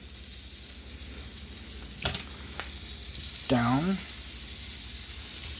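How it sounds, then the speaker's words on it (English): Pieces of pork bung are set into a hot pan and sizzle quietly with a steady frying hiss. A few light clinks sound, and a short spoken word rises over the sizzle. "Alright, so our pan is nice and hot. We're going to go ahead and start putting these on the pan."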